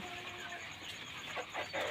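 Two young silkie chickens, a male and a female about three months old, clucking softly in a pen; quiet, close calls over a low background hum.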